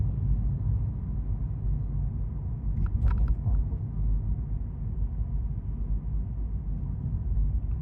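A car drives along a road at normal speed, giving a steady low rumble of engine and tyre noise from inside the cabin with a faint brief rattle, and no talking.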